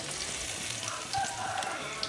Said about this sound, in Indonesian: Ini mau kita goreng, cara goreng juga sama seperti tadi, nggak usah terlalu dibolak-balik